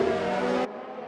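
Race cars in a racing video game, during the Bahrain Grand Prix, roar past in a quick overtake: a brief, dense engine blast that cuts off abruptly into a quieter hum.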